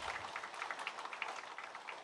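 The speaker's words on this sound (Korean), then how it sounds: "다시 한번 큰 감사의 박수로 수고했다고 함께 격려하겠습니다" A church congregation breaks into applause, with a brief but dense patter of many hands clapping at a moderate distance, steady from start to finish.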